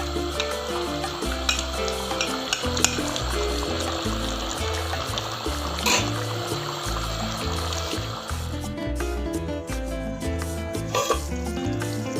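Chicken karahi fries in a wok as its water cooks off, giving a steady, close sizzle with stirring scrapes that runs unbroken and fairly loud throughout, and no one speaks.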